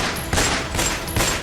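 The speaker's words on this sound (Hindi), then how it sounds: "बदमाशों ने इस दौरान 1-2 नहीं बल्कि 16 राउंड गोलियां चलाई।" Rapid bursts of gunfire at a petrol pump in Delhi, several loud cracking volleys in quick succession with a few louder peaks, close and harsh, no voices.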